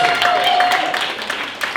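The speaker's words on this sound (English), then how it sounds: "Give it up for all the comics you saw. Clap for them." A comedy show audience applauding the comics, a dense wash of clapping close by, steady through the moment with no one speaking over it.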